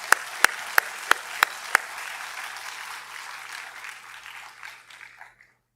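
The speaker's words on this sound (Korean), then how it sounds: "우리 하나님께 먼저 영광의 박수를 올려드리겠습니다." Congregation applause during a Korean church worship service, with a run of sharp, evenly spaced loud claps over a steady bed of clapping that thins and fades out near the end.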